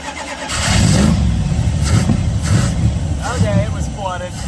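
A 1979 Chrysler 300 engine cranks and catches, sputtering and revving unevenly up close, loud and rough throughout.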